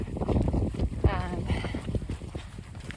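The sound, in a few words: wind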